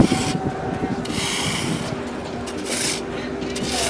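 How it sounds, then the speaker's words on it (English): A homemade rasp cut from a metal house-building truss plate scrapes and rubs against packed snow during snow carving, a close, gritty, continuous scratching with a few stronger strokes. "This is kind of a rasp."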